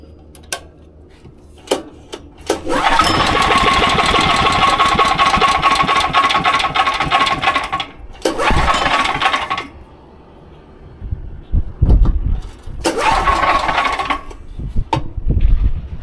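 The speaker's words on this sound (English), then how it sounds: "we're going to try and pull start it and see what happens" A small gas generator engine is pull-started with several rattling cranks in a row: one long sustained burst of mechanical clatter, then two shorter bursts with quiet gaps and clunks between, close and loud, with no speech.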